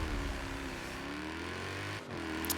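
Car engine in Forza Horizon 4, the Ashbrook Apex in a winter season championship race, droning steadily and loudly throughout with a brief dip near the end.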